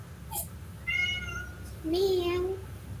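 A person imitates a cat with two drawn-out meows, the second lower and longer, over a steady low background hum.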